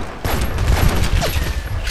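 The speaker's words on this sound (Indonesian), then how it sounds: "Kita pakai pistol dulu, kita maju." Rapid pistol shots and battle noise from the video game Medal of Honor Heroes 2, a loud dense stretch of overlapping gunfire bursts with no pause.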